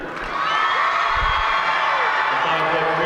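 A gym crowd at a girls' high school state quarterfinal basketball game cheers, whoops and yells in a loud, sustained roar, with a voice talking faintly beneath it.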